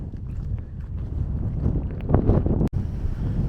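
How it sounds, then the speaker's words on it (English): Strong gusts of wind batter the microphone high on a mountain in Spain's Sierra Nevada near glaciers, a continuous loud roaring rumble with surging bursts and one abrupt dropout. "it is extremely windy"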